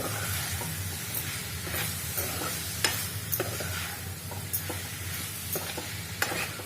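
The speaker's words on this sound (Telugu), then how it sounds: "ఇది మొత్తం బాగా కలుపుకోవాలి" A spoon stirs spicy mango prawn curry made with raw prawns, raw mango and chilli powder in a pan, scraping and clinking in irregular strokes over a steady sizzle, close and moderately loud with no talk.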